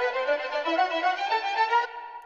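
Sampled string phrase with the original notes left unedited, a smooth sustained melodic line rising and falling for about two seconds before it cuts off, heard on its own.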